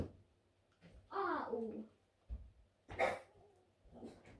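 A dog barks in a few short, close yelps and whimpers spread through a quiet indoor room, with a person's voice cutting in between the barks.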